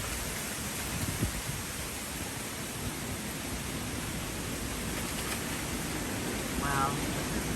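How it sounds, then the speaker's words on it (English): Bamboo stalks and leaves rustle in a strong jungle wind, a dense, rain-like hiss that stays steady and fairly faint, with a slight swell near the end. "This is what the bamboo sounds like in the wind."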